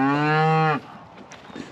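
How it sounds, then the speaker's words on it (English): A single cow lets out one loud, close, drawn-out moo on a cattle farm, lasting under a second, followed by quiet ambient farmyard noise. "go get our bull out, put him in with the cows"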